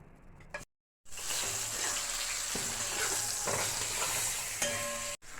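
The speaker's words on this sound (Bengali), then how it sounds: "বেগুন ভাজাগুলো আমি তুলে নিলাম" Eggplant slices frying in a pan for khichuri, a loud steady sizzle with stirring scrapes, broken by a brief silent gap near the start and a short cut near the end.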